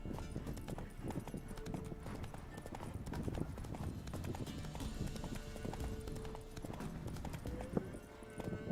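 In The Witcher 3, the horse Roach gallops with steady, rhythmic clip-clop hoofbeats that continue throughout at moderate volume over a low game-world background.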